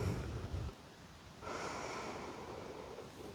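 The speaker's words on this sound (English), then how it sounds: "Inhales and exhales here, being sure to fill up that belly. Taking full conscious breaths." Slow, deep breathing during standing yoga: a close, airy inhale, then a long, steady exhale, soft and unaccompanied.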